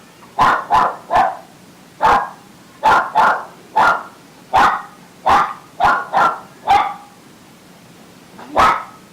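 A dog barks in close, loud bursts, about fifteen sharp barks in quick uneven clusters, with a longer pause before the final one.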